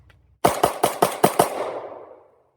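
Six rapid, sharp gunshots from a Glock pistol fitted with an aftermarket trigger during a timed drill at 6.5 yards. The shots are loud and close, evenly spaced, and the last one rings off into a fading tail.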